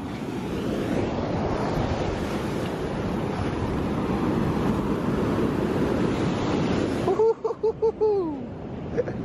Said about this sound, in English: the waves are pretty, they're pretty gnarly